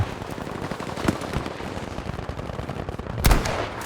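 Sustained gunfire in the video game Battlefield V, with dense rattling automatic bursts all the way through and a louder blast near the end.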